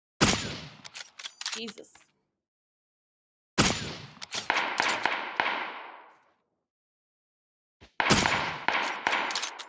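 Bursts of rapid gunfire from a shooter video game crackle in three loud volleys separated by pauses, one trailing off in a short echoing decay, with a brief spoken exclamation in between.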